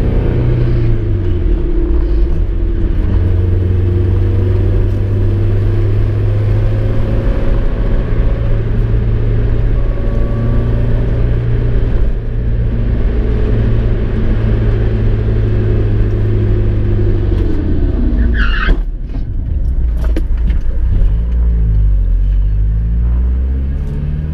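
Turbocharged Mazda Miata with a budget big brake kit and braided lines cruising home after hard-stop brake testing, a steady loud engine drone and road rumble throughout, with a brief shift or throttle change near the end.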